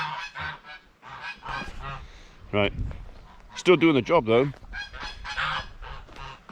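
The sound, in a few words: geese honking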